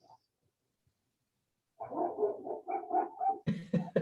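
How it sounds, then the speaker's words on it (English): A neighbor's dog barks in a short run of repeated yelps and barks partway through a quiet planning commission meeting, fairly distinct but somewhat distant, with a brief sound at the very start and silence before the barking begins. "Sorry, I have a neighbor dog that barks all the time."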